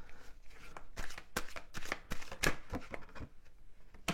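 Tarot cards being shuffled by hand during a love reading, a fast run of crisp riffling slaps and flicks, close and fairly loud, with no talking.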